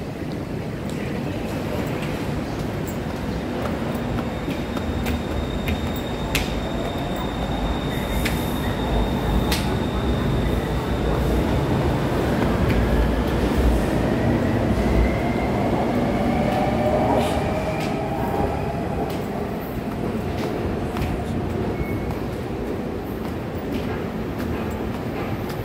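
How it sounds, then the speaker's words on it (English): An elevated Skytrain in Bangkok rumbles steadily past with a broad, continuous roar, a faint rising whine appearing partway through, heard fairly close with no talking. "So this is the train line, the sky train right here."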